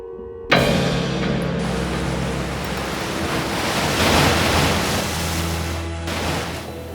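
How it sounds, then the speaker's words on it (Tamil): Sea waves crash loudly in a steady, dense roar that starts abruptly and swells and eases slightly over several seconds, with no voices over it. "கடந்த மூணு நாட்களாவே அலைகள் ரொம்ப அதிகமா இருக்குல்ல"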